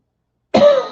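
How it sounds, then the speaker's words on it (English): A single close, loud cough bursts out abruptly after a moment of silence, then trails off in a rough, breathy tail, heard alone with no talking. "I'm really sorry that I'm just having this cough."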